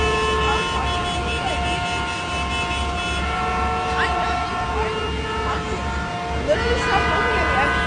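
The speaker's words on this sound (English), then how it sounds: "The cars would not stop honking when I was making my aesthetic crossing the street video." Car horns sound on a busy New York City street, with sustained tonal honks layered over traffic rumble and a voice talking over the noise.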